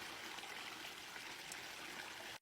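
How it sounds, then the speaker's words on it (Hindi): Water poured from above onto garden plants and soil in hot sun, a steady close splashing trickle that runs without a break for the whole stretch and then stops abruptly. "नेहा दुपट्टा सिर पर डालकर झुककर पौधों में पानी देती है"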